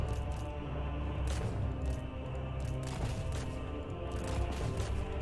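A distant volley of gunfire rolls on in Total War: Warhammer 3, a dense crackle of overlapping musket-like shots with occasional sharper cracks over a constant battlefield rumble.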